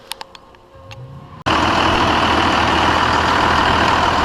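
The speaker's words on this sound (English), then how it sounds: "We'll show you when the truck's running." A Cummins 5.9 24-valve diesel truck engine, just after a harmonic balancer replacement, that suddenly starts running after a few faint clicks, then holds a loud, steady, rumbling idle close by.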